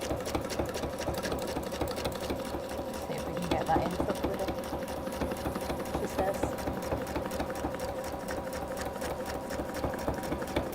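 A sewing machine stitches fabric in a workshop, sewing appliqué shapes such as a sandcastle and a bucket, its needle chattering in a steady, fast, even rhythm from start to finish, close and continuous with no pauses.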